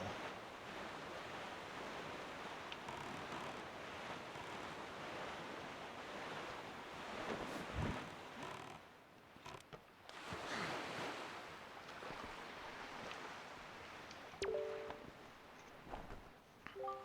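Ocean waves and wind rush past while sailing the sea in The Legend of Zelda: The Wind Waker. The wash is steady and broad, with swelling surges, and a few short chime-like tones sound near the end.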